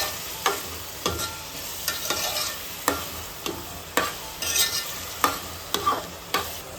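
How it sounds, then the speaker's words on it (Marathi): Onions fry in oil over a high flame, a steady sizzle broken by regular sharp scrapes of a spoon stirring against the pan roughly every half second. "तर इकडे आपला कांदा फ्राय होतोय"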